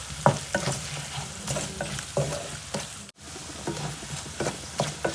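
Crushed peanuts are stirred into potatoes frying in a pan, with a steady sizzle under repeated scraping and stirring strokes, close and fairly quiet.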